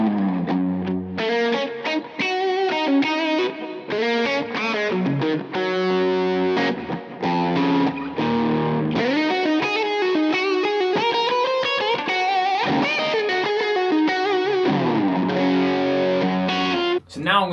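A figured Gibson Les Paul Custom electric guitar on its middle pickup plays a thick, distorted riff, chords and single notes ringing continuously and loudly, with no talking.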